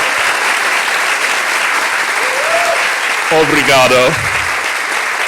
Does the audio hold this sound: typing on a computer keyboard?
no